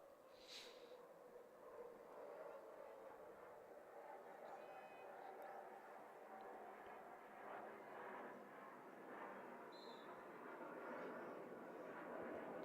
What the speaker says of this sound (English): Behind the net as the jet flies over us.